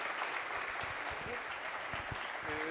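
Audience applause at the close of a session of short research presentations, a steady wash of many hands clapping at moderate level, with a few voices faintly mixed in.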